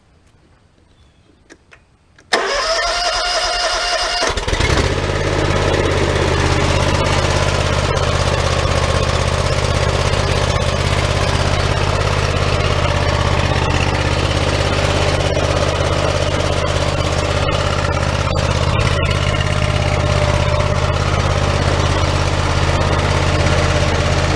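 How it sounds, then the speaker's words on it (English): After a brief quiet start, a Hustler zero-turn lawn mower engine, from a 2007 Super Z or 2016 X-One comparison, starts up and settles into a loud, steady, deep idling drone with constant vibration that continues unchanged for over twenty seconds. "let me show you how this motor sounds"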